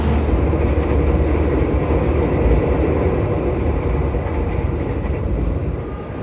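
Inside the cabin of a New Generation Logawa passenger train running past Purwosari toward Yogyakarta at about 85 km/h, a loud, steady roar of wheels and track noise fills the car throughout.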